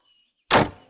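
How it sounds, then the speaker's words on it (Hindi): A door shut with a single sudden thunk that follows near silence and then fades quickly, close and fairly loud. "अरे दरवाजा बंद कर दिया।"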